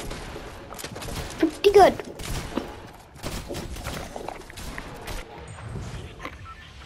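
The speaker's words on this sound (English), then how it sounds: "This is the new combat assault rifle." Bursts of combat assault rifle fire in Fortnite squads, short rapid volleys spread over several seconds amid other game effects, with a voice talking briefly over it.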